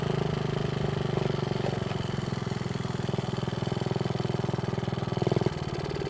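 Small engine of a Honda Z50A minibike running with a steady, putting idle close by, its pulse rising slightly near the end.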